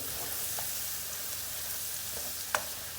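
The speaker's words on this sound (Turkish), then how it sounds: "Bir de bunun soğanını çok iyi kavurman gerekiyor." Onions frying in a pan for chicken kebab, a steady close sizzle with faint stirring scrapes and one sharp clink near the end, with no voices.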